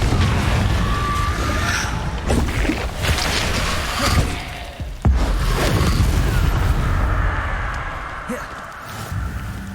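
In Hogwarts Legacy, a Confringo spell blast erupts in heavy booms and crackling bursts, loud and close, over a constant rumble of combat noise with a voice shouting amid the fight.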